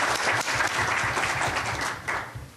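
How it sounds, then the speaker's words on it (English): Audience applause at the 2006 Illinois State Comptroller debate hosted by the City Club, a steady, dense wash of clapping from a room full of people, sustained throughout and tapering slightly at the end. "Let's give everybody a round of applause."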